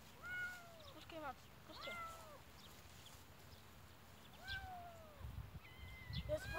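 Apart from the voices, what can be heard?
kitten meowing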